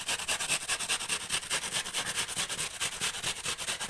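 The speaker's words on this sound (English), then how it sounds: "So I'm just grating my red onion here." Red onion rubbed against a grater for potato pancakes, a steady rasping scrape repeating in quick, even strokes, close and moderately loud, with no talking.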